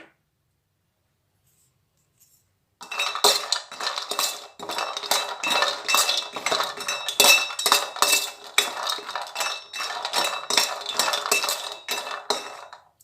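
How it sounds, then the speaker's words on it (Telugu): Half a cup of cashews dry roasting in a wide pan, stirred continuously with a rattling, clinking scrape of nuts against metal, close and steady after a few seconds of silence. "ఒక 5 మినిట్స్ ఇలాగా డ్రై రోస్ట్ చేస్తే కొంచెం మనకి క్రిస్పీగా ఉంటాయన్నమాట"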